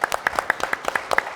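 A small audience claps at the end of a panel discussion on Black women in politics, with a few distinct hand claps in a loose, uneven rhythm, close and fairly thin.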